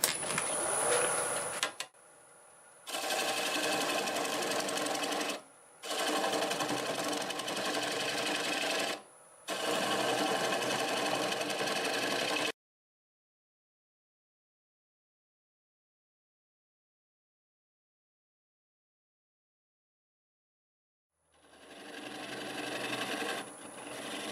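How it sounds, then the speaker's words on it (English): A wood lathe turns a piece of hazel as a half-inch bowl gouge cuts it away, producing loud steady scraping, rasping passes in several bursts with short pauses, then a long silence before cutting resumes. "we'll start with a 1/2 inch bowl gouge and cut most of it away"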